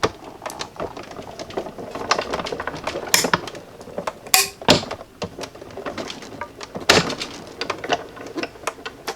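A die-cutting machine feeds cardstock through its rollers between a badly bowed top plate and a sound bottom plate, giving a steady grinding, clicking crunch with several sharp louder cracks, close and loud with no talk.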